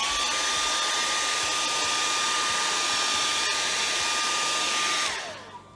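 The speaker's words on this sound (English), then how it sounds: "Tuesday's tip is all about the hair dryer." A hair dryer, used on paintings, blows loudly and steadily with a constant whooshing roar and a fixed whine, then is switched off and its pitch winds down to quiet at the end.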